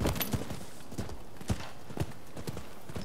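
Horse hooves clip-clop in Rise of the Ronin in a steady, unhurried rhythm of sharp knocks, close by, with a faint synthetic background hum.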